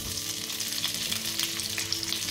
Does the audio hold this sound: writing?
no